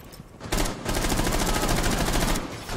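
Automatic weapon fire in Rainbow Six Siege rings out as sustained rapid bursts, loud and close, starting after a short pause and running almost continuously before tapering off.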